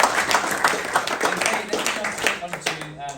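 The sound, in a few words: audience round of applause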